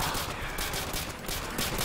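Dense, continuous gunfire in a custom zombies map of the Call of Duty video game, loud and unbroken across the moment with no pauses.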